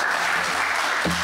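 Members of the public applaud in the Ottawa city council chamber during a special meeting, a short burst of steady clapping with a low thump near the end.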